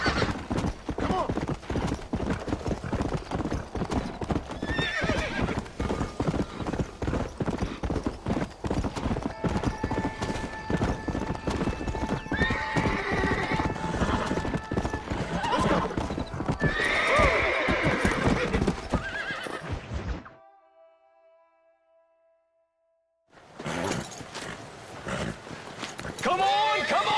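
Horses in Red Dead Redemption clip-clop and neigh loudly under shouting voices, hooves pounding steadily before a brief drop to near silence, then resuming.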